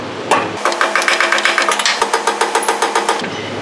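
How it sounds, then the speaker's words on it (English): Rapid, even metallic taps ring out close by as exhaust muffler bolts are struck while tightened on a 2004 Dodge Ram 5.9 Cummins during an MBRP 4-inch muffler install, about twenty quick hits in a steady rhythm. "while I'm tightening these bastards down, tapping them"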